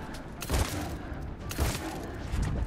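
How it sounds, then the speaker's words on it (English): Shotgun blasts from combat in the video game Mass Effect 3, two or three heavy booming shots spaced about a second apart over a steady rumble of battle noise, loud and close. "Shotgun time."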